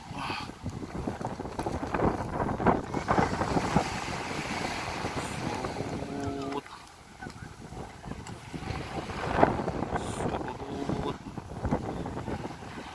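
Wind buffets the microphone while water rushes and splashes steadily past a fast-moving sailboat off Aceh, a continuous blustery roar with occasional louder gusts.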